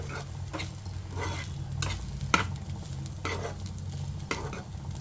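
A spoon stirs hot cooked rice into a fried mixture in a pan with light scraping strokes, over a constant soft sizzle.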